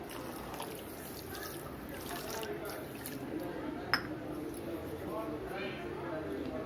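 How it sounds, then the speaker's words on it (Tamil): Water is poured over about a cup (200 g) of sugar in a home kitchen to make syrup. It makes a faint, steady trickle and splash at low volume, with a soft voice in the background. "இப்போ சர்க்கரை மூழ்கிற அளவுக்கு வந்து தண்ணி ஊற்றிடலாம்."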